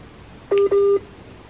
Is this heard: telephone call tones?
yes